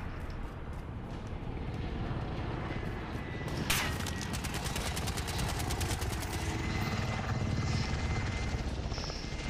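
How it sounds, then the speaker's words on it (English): An attack helicopter in a video game shooter drones loudly and steadily throughout, its rotor thrum filling the scene, with a brief sharp burst partway through and fast rattling gunfire layered over the engine noise. "Hostile attack chopper carrying cash. Shoot it down."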